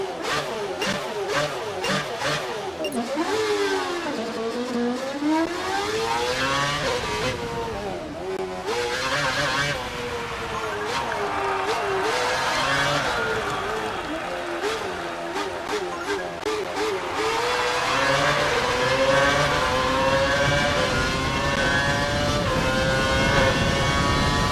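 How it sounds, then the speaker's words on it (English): A Formula 1 race car engine in the F1 2012 video game screams continuously and loudly, rising and falling through gear shifts and revs, with brief lifts off the throttle and a radio voice occasionally over it. "we've turned the engine up to normal"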